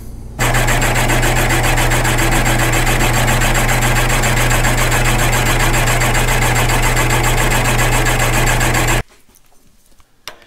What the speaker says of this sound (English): I threw this in the milling machine over there with a drop down boring bar and just started removing material